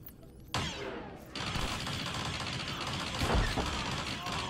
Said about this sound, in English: Rapid fire sniping.